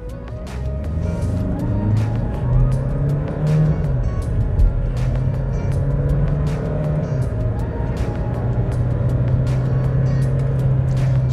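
A Fiat Toro Ranch diesel pickup accelerates from a standstill, its engine drone rising steadily and holding a strong low hum from inside the cab, with occasional clicks and no talking.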